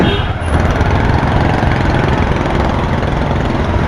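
Steady engine drone from a Honda Hornet 2.0 motorcycle during a road test ride, a continuous low, rumbling hum that stays loud and even throughout with no talking.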